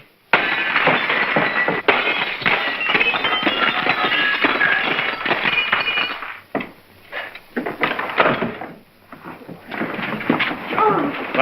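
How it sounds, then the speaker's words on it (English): Glass pane in a door smashed and shattering, a long loud crash of breaking and tinkling shards lasting several seconds, then scattered clinks and settling debris; no voices. "May I suggest, sir, that you break the glass?"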